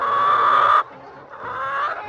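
Hens cluck loudly and close by in a short burst, pause, then murmur again more softly in a farm hen enclosure during egg collection.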